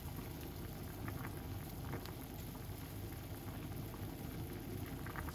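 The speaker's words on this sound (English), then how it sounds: "Just because it is boiling at the moment, but it will just calm down." Pot of lemon, ginger and honey tea at a rolling boil, a steady dense bubbling and hissing that stays close and even throughout with no voices.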